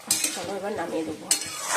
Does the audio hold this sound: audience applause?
no